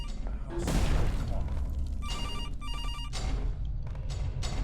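An old telephone rings in a dark room in the horror game CASE 2: Animatronics Survival, bursts of shrill ringing repeating over a low rumbling background with thumps.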